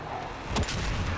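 In the DCS F/A-18C flight simulator, a bomb explosion lands as one short, muffled boom over a steady engine-like roar.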